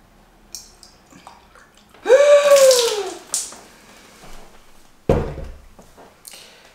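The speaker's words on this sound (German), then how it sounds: "Jetzt befülle ich die mit Wasser." Water pours into small homemade wall-hung vases in a brief rushing splash, followed a moment later by a short second gush and a soft knock, recorded up close in a quiet room.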